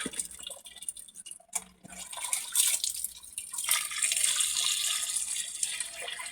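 Fresh fish being washed under running water, a close splashing tap stream that stops briefly, then resumes and flows steadily.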